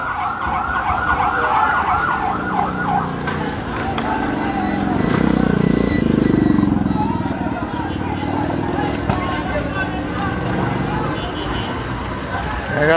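Fire service vehicle siren wailing at a market fire in Uttara's Sector 11, its rising and falling tone audible near the start under a loud crowd, with people shouting and talking throughout.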